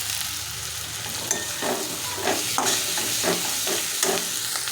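Masala sautéing in a pan, a steady sizzle with repeated scraping stirs every half second or so, close and continuous with no talk.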